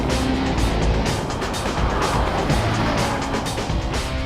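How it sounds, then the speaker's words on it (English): A Mercedes-AMG GT S turbocharged V engine roars steadily while accelerating hard, with heavy rushing road and wind noise throughout and no pause. "The hot V turbo engine sounds epic, and pulls hard"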